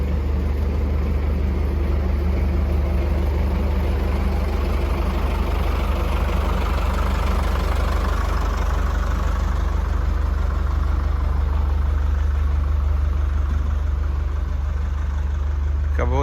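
Kubota rice harvesting combine at an equipment yard in Japan, its engine idling in a loud, steady low rumble that holds for the whole stretch, with no talk over it.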